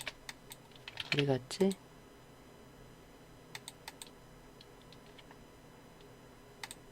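Computer keyboard shortcut keys are pressed during illustration software practice, with sparse, soft, close clicks scattered across the span and a brief spoken remark early on.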